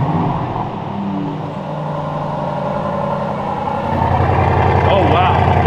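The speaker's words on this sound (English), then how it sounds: "That means it's ready to do a sport exhaust start." Aston Martin DBX 707 prototype firing up with the sport exhaust: a low engine rumble settles into a steady idle, then swells louder near the end, close to the car.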